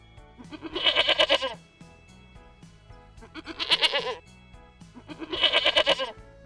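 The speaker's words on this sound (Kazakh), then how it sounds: "Ешкі де маңырайды." A domestic goat bleats three times in a steady pattern, each call a loud, close, quavering cry lasting about a second, separated by quiet gaps.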